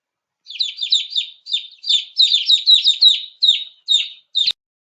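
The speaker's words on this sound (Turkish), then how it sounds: "İnci civciv gördü." Rapid high-pitched chirps in quick clusters, a small bird or chick peeping close and clear against silence, ending with a sharp click.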